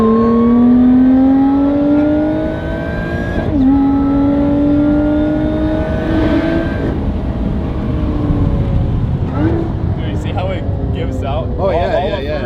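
A car revs hard and accelerates through gears on a makeshift urban racetrack, its loud engine note climbing and dropping at each shift while people talk and shout over it.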